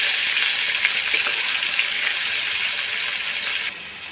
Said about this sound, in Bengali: পেস্টটা ভাজা হয়ে গেছে,